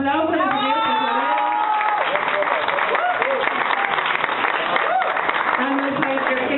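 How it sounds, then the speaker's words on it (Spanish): An audience at a political party women's course in Toluca applauds the treasurer with steady clapping that runs throughout, while talking and some cheering carry on over it. "un aplauso al señor tesorero"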